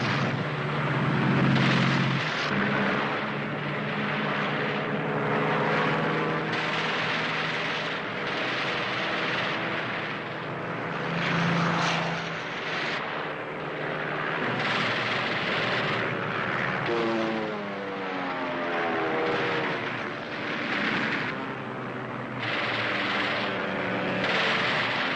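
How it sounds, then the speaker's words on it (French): Spitfire propeller fighter planes of September 1940 take off and fly, a loud, continuous engine roar swelling and fading as aircraft pass, overlaid with rumbling, shifting tones throughout. "Ainsi décollèrent le 15 septembre 1940 tous les Spitfire disponibles."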